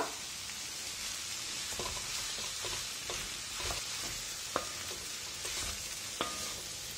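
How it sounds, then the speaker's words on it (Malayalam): Cooked potato is stirred into a frying bread-roll filling with a continuous sizzle and a few sharp scraping taps, no talking heard. "ഇനിയിപ്പോ നമുക്ക് നമ്മൾ കുക്ക് ചെയ്ത് വെച്ചിരിക്കുന്ന പൊട്ടറ്റോ ചേർക്കാം."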